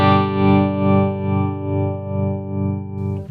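Guitar chord sustained through a Source Audio Orbital Modulator pedal on a soft sine-wave tremolo setting, volume swelling and dipping in a smooth even pulse about twice per second before fading out.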